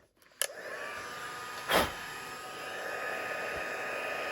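Heat tool blowing hot air onto a card during crafting, a steady whooshing hiss that starts after a click and runs continuously, with one brief louder burst partway through.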